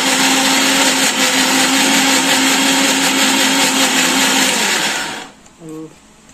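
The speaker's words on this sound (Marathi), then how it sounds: "त्याची पेस्ट, पाणी टाकायचं थोडस, अजून एक मिक्सर झालं।" A kitchen mixer grinder whirs loudly and steadily, grinding a paste with a little water, running continuously for about five seconds before cutting off, followed by a brief clink.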